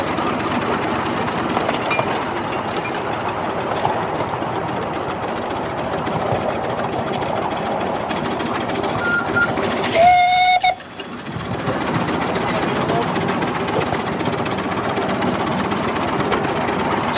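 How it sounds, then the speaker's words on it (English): A 7.25 inch gauge steam locomotive running on a model engineering society track, with a steady close chuffing and rattling rhythm throughout, a short shrill whistle blast, and then a brief lull. "It's an absolute beautiful loco to drive."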